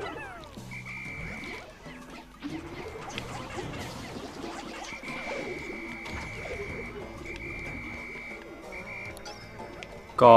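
Frog creature in Pikmin 3 croaking repeatedly amid game music and scattered impact sounds, moderately loud with a sharp burst at the end.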